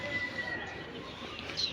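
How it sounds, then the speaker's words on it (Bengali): A pet bird gives a few faint, thin whistling calls, brief and high, over a quiet indoor background. "বোকা পাখি"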